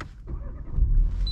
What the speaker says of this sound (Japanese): ちょっとエンジンかけますか。